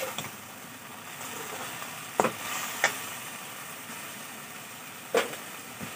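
Spices stirred into pumpkin leaf and dry fish curry frying in a pan make a soft, faint sizzle, broken by a few sharp scraping clicks of a utensil against the pan.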